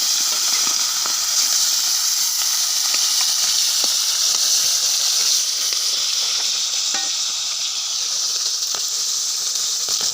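Fish pieces frying in hot oil in a home kitchen, a steady bright sizzle and hiss with scattered crackles and pops, close and continuous for the whole stretch.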